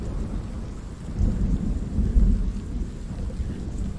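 Heavy rain pours steadily in the video game The Pillars of the Earth, with deep thunder rumbling and swelling through the middle before easing back into the constant downpour.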